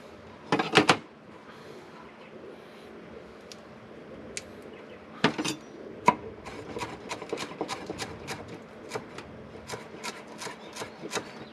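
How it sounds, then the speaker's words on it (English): Knife chopping washed cilantro roots into chunks on a board, with two quick early cuts, a pause, then a steady run of sharp, close chops. "You just want to chop them up"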